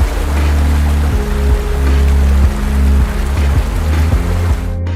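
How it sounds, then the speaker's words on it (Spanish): Rushing river water and a clear waterfall near Ollantaytambo, a steady loud roar of flowing water, close and continuous with slight swells, no voices. "El sonido del agua comienza a escucharse a lo lejos y se va haciendo cada vez más fuerte."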